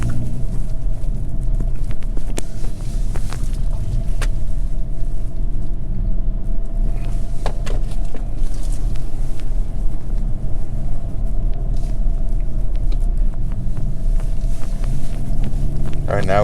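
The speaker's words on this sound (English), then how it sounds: "I'm just gonna put it on sport. The exhaust is halfway open." Deep, steady exhaust drone and road rumble from a 2022 Hyundai Kona N driven in sport mode with its exhaust valve half open, continuous and loud throughout, with someone talking over it at times.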